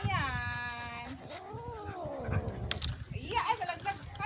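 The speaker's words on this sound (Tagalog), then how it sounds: "Kawawa naman ang pusa na yan." A distressed cat stuck up high meows and caterwauls in long, wavering cries, heard fairly close among background voices and household noise.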